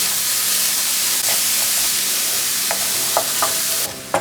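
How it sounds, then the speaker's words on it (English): Onions sauté with salt in a pan over medium heat, giving a loud, continuous sizzle and hiss, with a few clinks and scrapes of stirring near the end. "I'm over medium heat now because I do not want the onions to burn."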